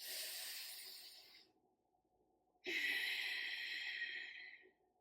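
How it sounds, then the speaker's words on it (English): Two long, loud, forceful breaths during a pelvic floor yoga exercise, close to the microphone, split by a brief quiet pause. "Now I'm trying to be loud with the sound, the breathing."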